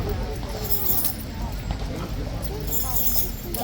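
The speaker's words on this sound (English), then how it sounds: "Horse in the yard's kicking off big time." Hooves clip-clopping on a hard yard surface as a restless horse stamps and kicks at Horse Guards in London, a rapid clatter under a loud crowd murmur and nearby chatter.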